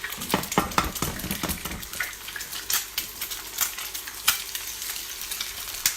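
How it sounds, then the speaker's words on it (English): Food sputters and crackles in an overheated frying pan while eggs are cooked over easy for breakfast, busy close-up popping with sharp spits and a utensil clink or two, no talking. "Looks like my pan's a little bit too hot. You can tell that because it's sputtering a little bit"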